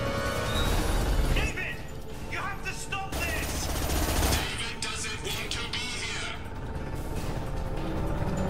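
A big gun fires in the Mass Effect video game, with rapid bursts of gunfire and crashing effects mixed with game sounds and a voice talking.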